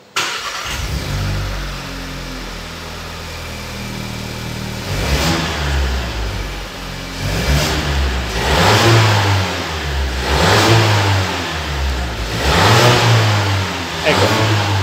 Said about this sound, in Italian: adesso Mirko accende il portentoso mezzo